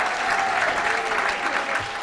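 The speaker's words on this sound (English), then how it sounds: "How about a nice round of applause, Mr. Paul D'Angelo, everybody." A comedy club audience at the Kowloon applauds a stand-up comedian being introduced, a dense, steady wash of clapping from many hands filling the room for about two seconds.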